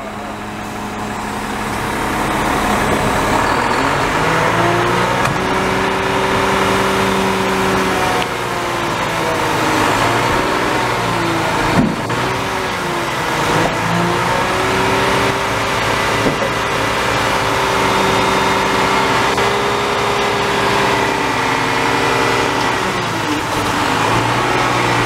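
A garbage truck's engine runs steadily while it packs trash, a loud, close, low diesel drone that rises and falls in pitch twice as the hydraulic compactor cycles, with no voices.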